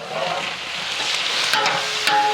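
Crushed shallots, curry leaves and green chillies hit hot oil for a wedding-style chicken curry, giving a steady close sizzle with a few sharp crackles and light stirring.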